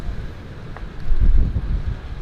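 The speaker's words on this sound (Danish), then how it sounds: "Blæser en lille smule" Wind blows outdoors in a Vietnamese town, a low rumbling buffet against the microphone that swells in the middle of the stretch and then eases slightly, with no talk.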